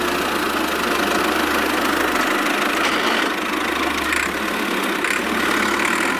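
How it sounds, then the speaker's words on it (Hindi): An HMT tractor engine runs steadily nearby, a loud continuous low rumble with a knocking diesel character, with no speech over it. "चलो एचएमटी ट्रैक्टर फटाफट से इसको सही कराने।"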